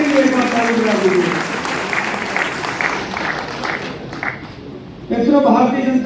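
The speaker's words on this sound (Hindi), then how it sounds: "आप अपने लिए एक बार ताली बजा दीजिए।" Party workers at a political felicitation gathering applaud together, a dense steady clapping crowd for about five seconds that briefly thins before swelling loud again.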